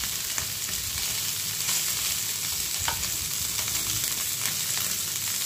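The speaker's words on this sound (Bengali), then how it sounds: "সব চিকেনটা ভেজে নেবে।" Chicken pieces for Afghani Kabuli pulao fry in a pan with a steady, close, broadband sizzle and occasional stirring scrapes throughout, no voices.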